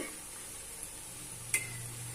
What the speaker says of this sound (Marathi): या पद्धतीने आपल्याला मोदक इथे तेलात टाकून घ्यायचे